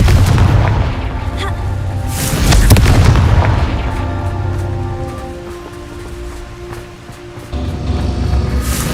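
Repeated booming blasts from a fire-spell explosion in a wizarding video game, loud heavy bursts near 2.5 seconds and again later over a rumbling rolling background, with no talk.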